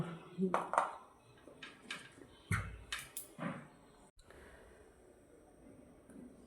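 A lid set onto a cooking pot while steaming potol, quiet metallic clinks and knocks scattered across a few seconds, with a softer background hum.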